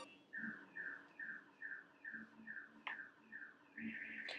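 A distant, faint car alarm repeats a chirping, falling electronic tone in a steady rhythm, about twice a second, over low background noise.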